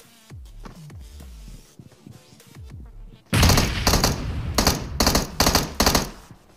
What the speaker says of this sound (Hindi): मैं खिड़की के पास आता हूं और गोली चलने की आवाज आती है।